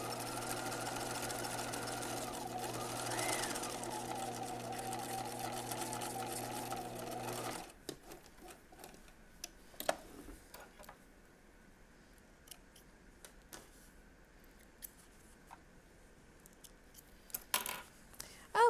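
A sewing machine runs a steady, continuous top stitch on denim jeans for the first several seconds, then stops. Scattered clicks and small handling taps follow in near quiet.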